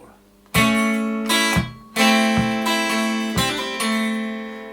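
Electric or acoustic guitar plays the opening bar of a song, several ringing picked notes and chord stabs in a slow rhythm, close and clear, with no talking.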